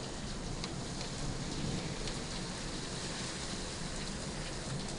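Heavy rain pours down steadily with light hail mixed in during a Texas tornado warning, a dense, continuous roar of drops hitting surfaces close by, with no voices.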